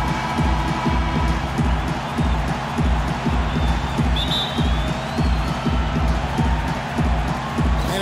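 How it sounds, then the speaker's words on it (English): An arena crowd in NBA 2K15 rumbles steadily at a Phoenix Suns home game against the Lakers, with a pulsing low throb repeating throughout and a few brief whistles and cheers rising above the constant roar. "Phoenix, the crowd is going crazy."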